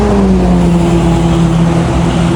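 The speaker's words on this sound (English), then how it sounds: "we are now hearing cars rolling around the speedway." Loud, continuous engine drone with a steady tonal whine as Toyota race cars circle Clark International Speedway nearby, with no voices.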